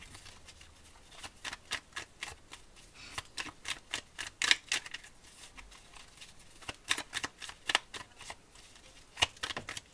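Oracle cards are shuffled for a reading, a soft, close flutter of riffling cards in repeated quick bursts with brief gaps.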